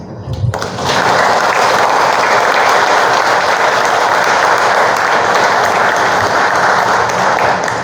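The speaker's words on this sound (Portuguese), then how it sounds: "Que a vibração dessas palmas chegue para o nosso amigo Paulo Soledade, onde ele estiver" After a brief quieter moment, an audience at a spiritist lecture breaks into loud applause that swells within a second and holds steady as a thick, sustained roar of clapping.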